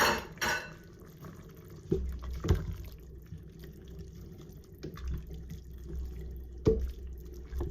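Meat and its fatty juices poured back into a pot of keto Zuppa Toscana soup, with soft wet splashes and dripping, a few clinks of a utensil against the pot, and quiet bubbling in between.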